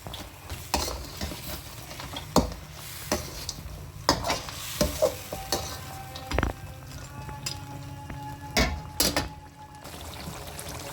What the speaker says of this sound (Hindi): इसको अच्छी तरह से हिला लेते हैं।